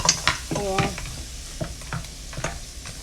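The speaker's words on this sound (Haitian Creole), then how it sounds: "Ma brase l pou ta bien belle, pran couleur." Chicken is stirred in a pot for kalalou sauce, with scraping spoon strokes and soft sizzling, and a faint voice is heard briefly.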